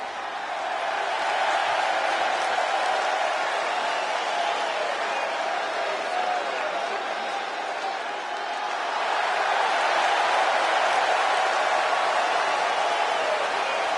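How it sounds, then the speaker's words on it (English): Wrestling arena crowd in the WWE 2K26 video game, a dense, steady roar of cheering and chatter that holds loud throughout. "The crowd is on its feet."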